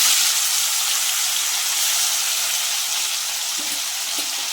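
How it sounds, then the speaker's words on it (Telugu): Fish pieces deep frying in hot oil, a loud, continuous bright sizzle with steady bubbling and hiss, close up and with no voices. "ఇవి కూడా అదే విధంగా డీప్ ఫ్రై చేసుకున్నామండి."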